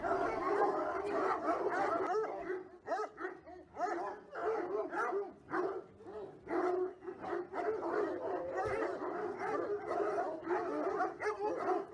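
Stray dogs bark, yap and whimper over food in a dense, overlapping chorus, loud and near, with constant squabbling yelps and no pause throughout.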